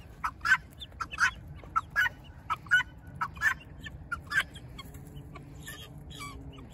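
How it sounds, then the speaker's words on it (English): Guinea fowl let out to free range outdoors, giving repeated sharp, rhythmic calls in close succession, fairly near and moderately loud over a low outdoor rumble, with no talking. "all seven guineas went out"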